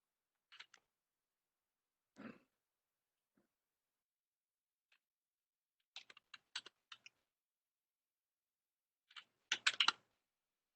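Scattered bursts of typing on a computer keyboard while code is entered, short clusters of quiet clicks separated by pauses, growing into a denser flurry of keystrokes near the end.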